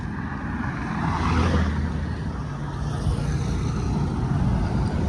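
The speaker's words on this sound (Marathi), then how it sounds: "या हायवेला खूप गाड्या असतात ना" Steady road traffic on a highway, a continuous low rumble of cars and trucks with a vehicle swelling past, moderately loud throughout with no one speaking.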